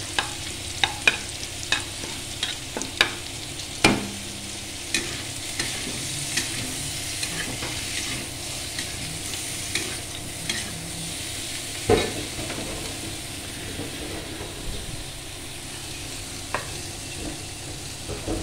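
Whole spices, a dried red chili, two bay leaves and cumin seeds, temper in hot oil with a steady close sizzle, broken by scattered clinks and scrapes of a spoon stirring the pan, no voices.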